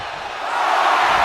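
Wrestling arena crowd in the video game WWE 2K26 cheering and roaring, a dense broad wash of voices that swells slightly louder over a brief moment.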